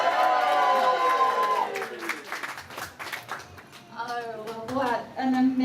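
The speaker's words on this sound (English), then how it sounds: "So everyone, give her a big cheer." A wedding afterparty crowd cheers and applauds for the bride, Karen, with scattered claps and whoops rising and falling over several seconds while voices carry through the noise.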